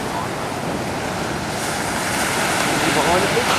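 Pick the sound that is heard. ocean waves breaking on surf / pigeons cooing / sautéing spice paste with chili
ocean waves breaking on surf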